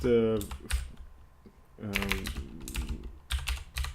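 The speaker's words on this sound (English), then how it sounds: "Then we type in this command." Rapid bursts of keyboard typing, clicky and close, entering Linux commands for the i3 window manager, come in short clusters between brief stretches of a person talking.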